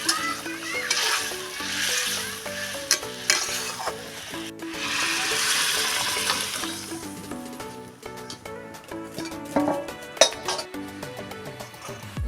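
Papaya and paneer curry with spice powder cooking in a pan, with continuous sizzling and bubbling, repeated stirring and clinks of a utensil against the pan, and faint talk in the background.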